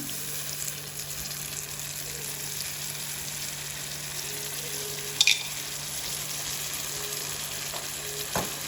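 Onions for Sri Lankan Tamil seeni sambal sauté in a pan with a steady, close frying sizzle, one brief clatter midway and a soft knock near the end, no voices.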